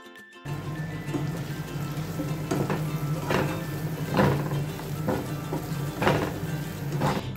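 Paneer pieces are stirred with a spoon in a pan over a constant soft sizzle, with a series of scraping strokes rising every second or so.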